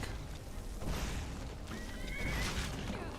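A horse whinnies and snorts in the video game Skyrim, two short neighing bursts over low thumps and rumbling, close and fairly loud, with no speech.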